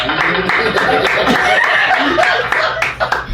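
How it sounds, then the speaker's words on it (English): An audience claps to welcome a man named J Boog, brisk applause mixed with scattered chuckles and laughter, close and lively throughout. "Everybody, give a round of applause for my brother J Boog"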